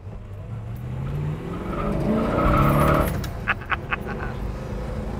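A 1970 Plymouth Road Runner accelerates hard, its engine swelling loudly before the tires break loose in a few sharp squealing chirps, heard close and without talk.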